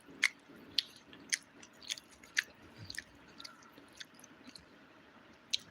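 Someone eating appam with chammanthi curry, soft close-up chewing and moist squishing with sharp little clicks of the mouth at irregular intervals, quiet and without talk.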